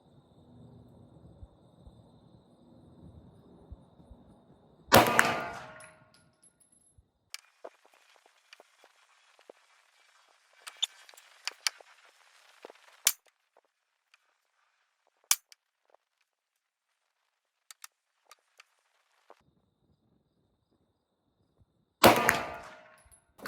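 Pistol shots strike steel targets at 50 yards, heard as a few sharp, widely spaced cracks followed by faint metallic clangs and small ticks against near silence, with a low rumble fading out early on.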